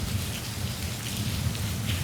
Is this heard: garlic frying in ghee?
no